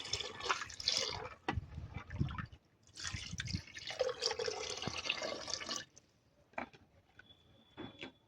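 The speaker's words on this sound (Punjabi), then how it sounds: "ਥੋੜਾ ਜਿਹਾ ਪਾਣੀ ਆਪਾਂ ਹੋਰ ਪਾ ਦਾਂਗੇ" Water splashes and trickles in uneven bursts as it is poured into a pressure cooker with black chickpeas, with a few drips and clinks near the end, close by and moderately loud.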